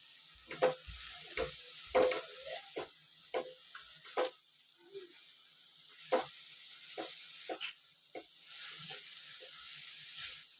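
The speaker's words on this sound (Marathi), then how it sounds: "खोबरं चांगलं परतून घ्यायचं." Grated coconut sautéed in a pan brings a series of quiet, sharp spatula scrapes and stirs, spaced irregularly over a faint background sizzle, with no talking.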